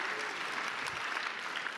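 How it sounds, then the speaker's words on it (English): Brief burst of hand clapping from a conference audience, a dense close ripple of many hands that holds evenly throughout. "Clap your hands if you've ever been to the Cheesecake Factory restaurant"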